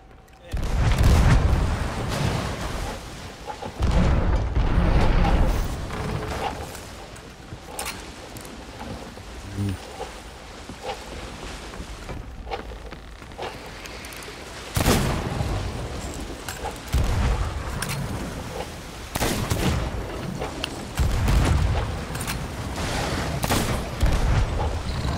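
Ship cannons fire at a megalodon during a Sea of Thieves battle, producing heavy booming blasts with dense rumbling impacts and crashing sea noise, loud and close, while voices talk.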